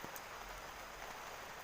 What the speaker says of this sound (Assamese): এতিয়া বৰষুণো বহুত বেছি দি আছে।